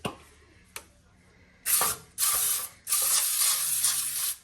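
Cooking spray hisses from a can onto a disposable pan in three bursts of about half a second to a second and a half. Each spray is preceded by faint clicks and handling sounds.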